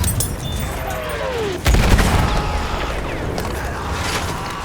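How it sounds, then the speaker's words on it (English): Artillery gun fire in the Battlefield video game: one heavy booming blast with rumbling tail, followed by scattered mechanical creaks and distant crackles amid constant background noise. "or the volatile sound of an artillery gun"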